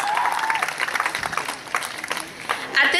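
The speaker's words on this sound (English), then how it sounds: "Give yourself a round of applause." An audience at a graduation ceremony breaks into applause, a dense wash of clapping that rises and falls over about three seconds with some crowd noise mixed in.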